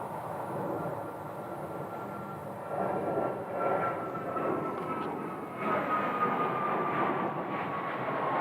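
Jet airliner noise at Phoenix Sky Harbor airport, an American Airlines arrival, a steady broadband roar that swells slightly midway and holds, with no talk over it.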